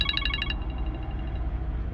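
A phone rings in a short electronic pulsing burst that cuts off after about half a second, leaving a low rumbling background inside a truck.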